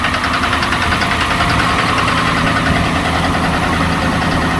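A cold truck motor idles just after startup with a rough, knocking rumble that stays near and steady throughout, with no voices over it.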